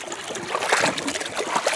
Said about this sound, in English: look at the river leaving my property.